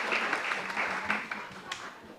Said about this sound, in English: A big round of applause for all the participants.